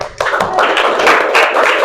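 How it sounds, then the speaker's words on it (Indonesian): Class of students clapping hands together at a teacher's prompt, a short close burst of loosely synchronized claps, fairly loud in a small room, with no talking. "Oke, tepuk tangan semuanya."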